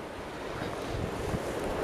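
Strong wind buffeting the microphone on the Mull of Galloway coastal trail in Scotland, a continuous roaring rush with a low rumble, constant and close, with no voices.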